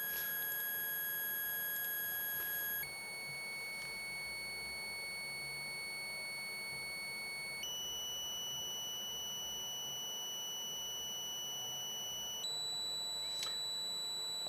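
Synthesizer playing high, clean sustained notes, each held tone stepping to a new pitch several times in sequence, clear and bright over a soft background noise floor, with no voices.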